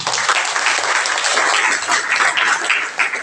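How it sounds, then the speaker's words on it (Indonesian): Audience applause from a school assembly crowd, a dense, steady wash of many hands clapping continuously throughout without pause. "Boleh nggak minta tepuk tangan?"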